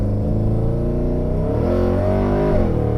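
A 6-liter Chevrolet Trailblazer engine on a test track drones loud and steady with a deep, continuous rumble, its pitch rising as it revs.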